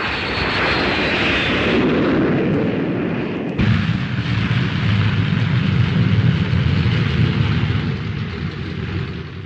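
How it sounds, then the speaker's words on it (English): Roaring jet noise from the P-1067 fighter passing overhead, a loud, steady rushing drone that shifts abruptly partway through and carries on without speech, on a grainy early 1950s NATO film soundtrack. "And the P-1067, the fastest fighter flying today."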